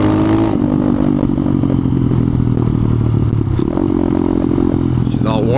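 A warmed-up motorcycle with fresh oil and a freshly tightened carburetor slide cap runs loud and close, revving in repeated pulls with a clattering mechanical edge that never lets up.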